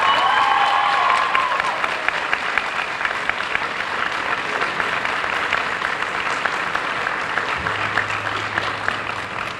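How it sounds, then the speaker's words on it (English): Sustained applause from a large audience at a high school summer graduation ceremony, a dense steady wash of many hands clapping at moderate distance for nearly ten seconds, with a faint low hum entering near the end. "So if we could have a round of applause for Mr. Mark DeBrito and Mr. Valdez Silva."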